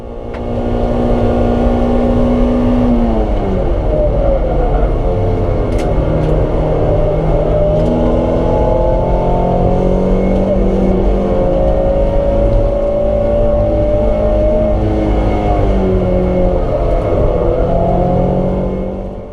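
Mazda MX-5 race cars at Silverstone, loud engines droning and shifting pitch continuously as they sweep past, one car falling back as others overtake, with the sound steady for the whole stretch.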